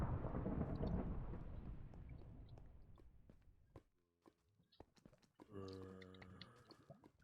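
A lightning strike and rolling thunder in a blocky Minecraft-style game: a loud crackling crash that decays over several seconds, followed by a brief lull and then busier game sounds.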